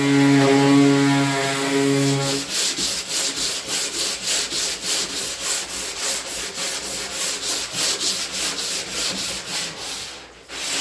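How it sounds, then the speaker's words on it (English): Sanding of car bodywork with an oscillating sander, a steady rhythmic rasping of regular strokes over several seconds, with a droning hum at the start before the scraping settles in, close and loud, no talk. "I'm going to get back to sanding."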